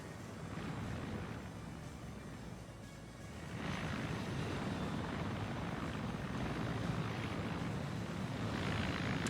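A video game helicopter in Arma 3 drones steadily with a dense rotor chop, growing slightly louder partway through and holding at a continuous roar.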